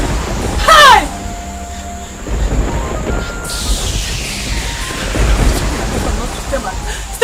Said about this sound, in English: This thunder and lightning,